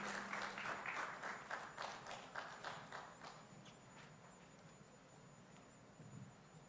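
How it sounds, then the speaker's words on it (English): Audience applause at the inaugural session of an international criminology conference, dense clapping that starts strong and gradually thins and fades over several seconds. "please give a big round of applause to him"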